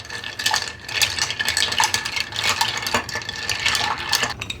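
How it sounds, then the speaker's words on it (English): Ice clinking and swirling in a mixing glass as a whiskey holiday cocktail is stirred, a steady bright rattling that carries on continuously at close range. "Add a little bit of ice to this before we stir."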